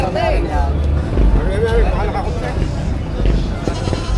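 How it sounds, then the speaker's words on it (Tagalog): Goats bleat in short wavering calls amid a busy crowd at a livestock market in the Philippines, with people chattering and traffic noise in the background. "Apat na kambing naman ah."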